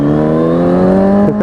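A motorcycle engine pulls away from a stop as the clutch is eased out with a little gas, giving a steady, close, loud drone that rises slightly in pitch and then falters near the end.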